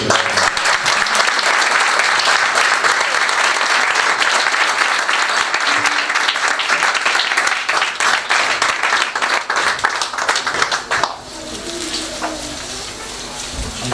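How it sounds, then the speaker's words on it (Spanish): Loud, dense applause from a congregation at a church anniversary celebration fills the space for several seconds, then drops off abruptly near the end, leaving quieter scattered noise. "Entonces denle un fuerte aplauso."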